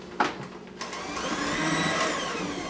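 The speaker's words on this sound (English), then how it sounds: "So we'll again put our mixer back on." An electric stand mixer switched on at low speed mixing cheesy herb cracker dough, a steady close motor whir rising after a couple of brief knocks, with no talking.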